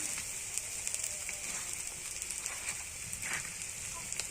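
Garlic paste sizzling in a pan for a country chicken curry, a dense steady crackling hiss with scattered small pops, close and fairly quiet throughout.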